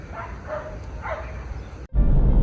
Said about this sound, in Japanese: なんかやたら犬の鳴き声が聞こえるね。